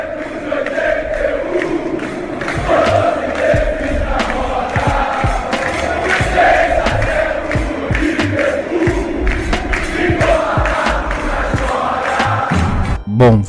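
Stadium crowd chant from the football video game PES on PS3, a dense roaring mass of voices singing and shouting continuously throughout, loud and steady with no pauses.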